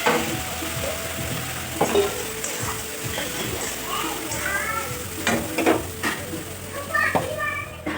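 Spice paste sizzles steadily as it fries in a pan, with spatula scrapes and stirring up close while people and children talk in the background.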